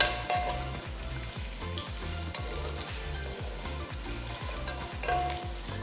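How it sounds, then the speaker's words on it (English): Thinly sliced onions and slit green chilies sautéing in oil in a pot, a steady close sizzle and crackle with a rhythmic stirring scrape repeating through, no talk. "Saute the onions till they are nice and brown."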